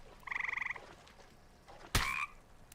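A frog croaks in the video game Embers Adrift, first as a quick rattling burst of pulses and then as a louder, longer croak, heard clearly with no talking.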